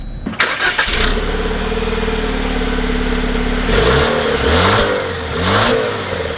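2020 Jeep Wrangler Altitude fires up with a sharp cranking catch, then settles into a steady, close idle. A few seconds later it revs and pulls away, the engine note rising and shifting as it drives off.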